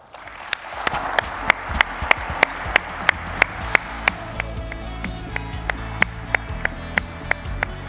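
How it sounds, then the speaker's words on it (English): Conference audience applauding award winners at a supercomputing conference: a steady wash of clapping from a large hall, slightly distant, with sharp periodic knocks standing out above the crowd. "Please give them another round of applause."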